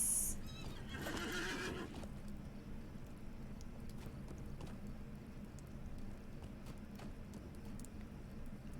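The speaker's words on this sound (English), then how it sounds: "horse." A horse in the Lord of the Rings Online game gives a single brief whinny at the start, followed by soft hoof clops and faint rain-like ambience, quiet overall.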